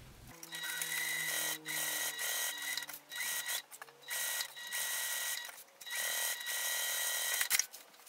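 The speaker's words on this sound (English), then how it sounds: "I will be sewing an eighth of an inch away from the folded edge that we just sewed." Sewing machine stitching the lining of a fabric car caddy an eighth of an inch from a folded edge, a close, steady mechanical whir running in several bursts with brief pauses between.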